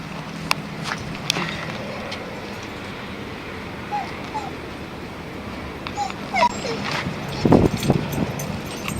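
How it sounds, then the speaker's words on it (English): Beagles whimper and give faint high yips indoors, heard at a distance over a steady background hum, with a slightly louder whine near the end. "The non-silence of the beagles."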